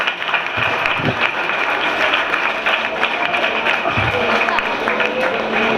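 Audience applause for Rakesh Datta at a Lions Club Khammam event, a steady dense wash of clapping over about six seconds with some voices mixed in.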